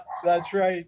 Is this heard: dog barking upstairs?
yes